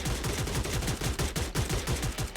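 Rapid MP5 submachine gun fire in the mobile battle game Free Fire, a tight string of sharp automatic shots in quick regular rhythm, loud and close with no talk.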